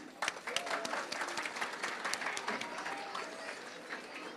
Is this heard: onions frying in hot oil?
no